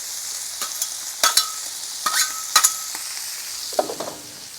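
Cabbage, sausage and shrimp fry on a Blackstone flat-top griddle, giving a continuous sizzle punctuated by repeated spatula scrapes and clacks against the steel, several in quick pairs, close and fairly loud.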